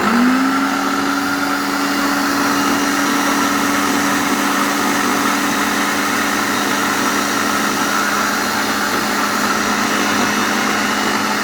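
Mito and Philips kitchen blenders running together, a loud steady motor whine with a constant hum that holds unbroken for the whole stretch, with no talking.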